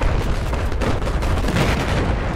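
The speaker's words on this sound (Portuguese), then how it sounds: "A sorte esse tiro de RPG aqui." In a Battlefield 4 match, an RPG round explodes amid battle noise: a loud, sustained, rumbling blast with crackling gunfire-like texture throughout.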